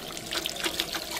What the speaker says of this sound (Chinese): 这个要再清洗几遍。